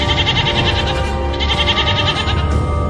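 A young goat bleats loudly and repeatedly in rapid, insistent cries, close by and continuous over a noisy background.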